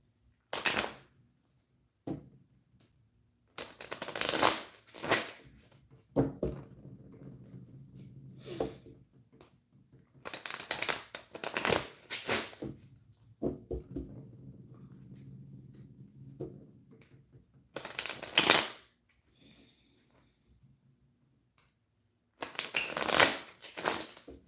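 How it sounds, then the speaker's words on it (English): A deck of tarot cards is shuffled in several bursts of crisp riffling and flapping, with quieter handling and soft rustling between them, close to the listener. "I don't know why I can't shuffle this deck out."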